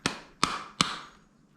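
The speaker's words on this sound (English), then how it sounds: "Rubber hammer, give it a couple whacks." Three sharp whacks from a rubber hammer seat a shifter part on an SW20 Toyota MR2, evenly spaced about a third of a second apart, close and distinct, each dying away quickly.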